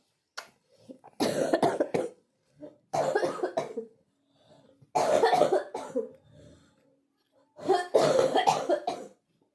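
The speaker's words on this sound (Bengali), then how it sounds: "এত বাজে কাশিটা, মানে নিজের আওয়াজ নিজেই শুনতে ইচ্ছে করছে না" A woman with a cold coughs hard in four separate fits, each a burst of rough, chesty coughs close to the listener, separated by short quiet pauses with faint breathing.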